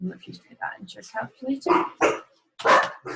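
Dogs bark indoors in the background of a chemistry lesson, a few sharp yips and barks breaking through over steady close speech from a man explaining calculations.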